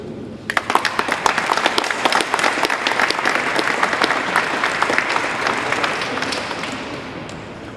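Audience applause at the SPE France awards ceremony in 2014: a large crowd claps steadily and fairly loudly for several seconds, a dense patter that thins slightly toward the end.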